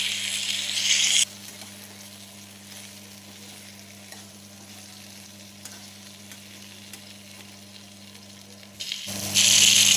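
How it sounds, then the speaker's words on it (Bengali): Boiled potatoes frying lightly in a pan for a Bengali dish, a steady soft sizzle that runs alone throughout, with louder bursts of crackle at the start and end as pieces are stirred. "আমি আলুটা সেদ্ধ করে রেখেছিলাম না ওটা তো একটুখানি ভেজে নেব"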